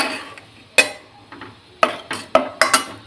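Metal spoon clanking against a pan while mutton is stirred with homemade garam masala, several sharp close knocks in a loose, uneven rhythm.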